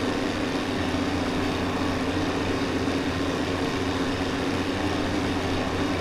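A small plane's engine drones steadily in flight over Cape Cod Bay near Provincetown, Massachusetts, in Microsoft Flight Simulator, a constant, even hum with no change in pitch and no talking.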